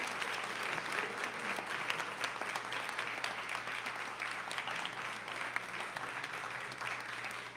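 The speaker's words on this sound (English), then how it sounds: "So give these candidates a round of applause for participating tonight." An audience at a city council candidate forum in a library room claps for the candidates with steady, moderately distant applause that lasts throughout and never swells or stops.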